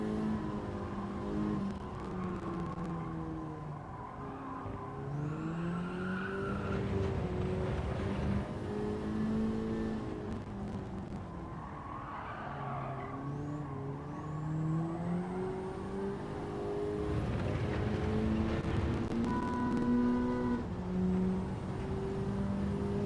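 Racing video game: a Honda Civic FL5 touring car at the Fuji circuit drones steadily, its engine rising and falling through gear changes over twenty-odd seconds, with no talk.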